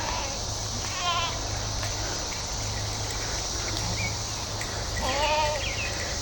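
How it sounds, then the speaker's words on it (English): Dairy goats on a farm bleat a few times at a distance over a steady background hiss and hum. "Here comes the goats. Come on, goats!"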